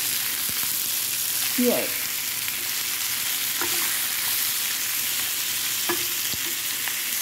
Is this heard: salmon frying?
yes